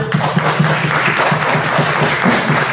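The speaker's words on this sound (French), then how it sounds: "C'est exact, on peut l'applaudir." Audience applause at an academic contest final: a thick wash of many hands clapping, loud and sustained, with a faint low voice or tone murmuring underneath.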